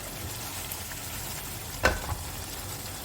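Spiced Rajasthani-style taro (arbi) frying in a pan, giving a faint, steady low sizzle with one brief louder clink or stir partway through, and no talking.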